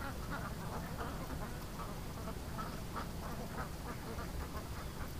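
Ducks quack repeatedly in an outdoor setting where pet ducks are raised alongside a wild duck, a steady run of calls over constant background noise and wind.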